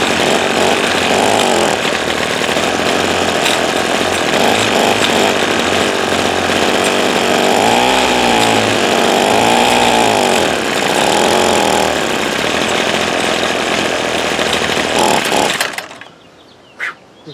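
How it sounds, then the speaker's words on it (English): Small two-stroke engine of a Ryobi SS30 string trimmer running steadily with a carburetor problem, a loud continuous buzz that surges and wavers in pitch mid-clip, then cuts off abruptly near the end, no talk. "Let it idle, try to work the bugs out maybe."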